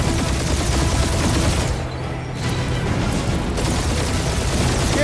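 Sustained gunfire in the Marvel's Guardians of the Galaxy video game, a dense continuous fusillade of shots with booming impacts, briefly thinning for a moment before the rapid firing resumes at full loudness.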